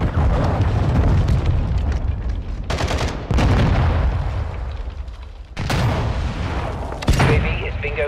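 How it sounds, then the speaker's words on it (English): A cruise missile strike in the video game Call of Duty: Modern Warfare II, heard as loud, rumbling booms and blasts that crash in one after another, each swelling into a roar before the next. "Hostiles launched a cruise missile."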